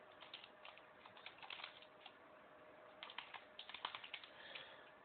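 Someone types on a computer keyboard while entering a player's name into a table: quiet, quick bursts of key clicks come in uneven runs with short pauses, heard faintly with no talk.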